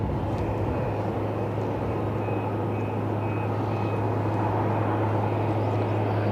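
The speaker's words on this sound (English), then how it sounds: "I'm trying to catch the tankers as they go overhead." Tanker aircraft passing overhead near Cleveland airport, a broad steady engine roar with a low droning hum that holds loud throughout, no talking.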